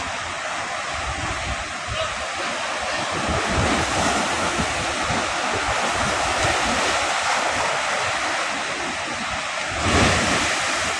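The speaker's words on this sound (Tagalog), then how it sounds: "Napapalaki lang po ang dagat ngayon dahil sa alon." Sea waves of Manila Bay roll and wash continuously in a broad roar, with gusty wind noise on the microphone and a swell near the end.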